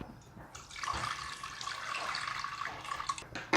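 Water runs from a tap into a kitchen sink while pumpkin is washed, a steady splashing stream with faint clinks of items being rinsed, fairly quiet.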